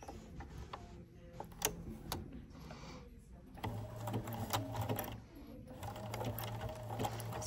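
A sewing machine stitches a zigzag on bra fabric, catching the edge of a cup. Its soft mechanical whir and rapid needle ticking run steadily at low level, with a faint hum and a few brief stops.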